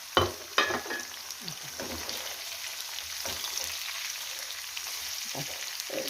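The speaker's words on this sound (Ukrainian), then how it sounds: "І тепер буду закидати сюди цибулю і морквочку разом. Все разом отак закину. І хай гарненько ще це обсмажиться" Onion and carrot fry together with meat in a pan for stewed cabbage, giving a steady hissing sizzle with a few loud clanks and scrapes of a utensil stirring early on, no voices.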